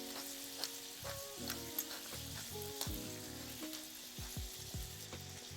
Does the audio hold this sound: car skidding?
no